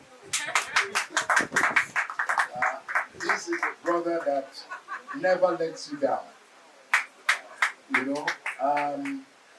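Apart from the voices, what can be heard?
party guests clapping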